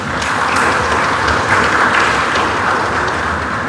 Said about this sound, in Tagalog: Apos ng sugaton sa masipang palakpak.